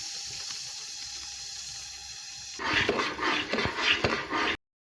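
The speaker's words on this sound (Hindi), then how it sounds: "इसमें पानी शामिल करेंगे।" Water poured into sizzling besan halwa cooking with sugar in a pan, a sudden loud bubbling hiss and spatter lasting about two seconds before cutting off, with no talking.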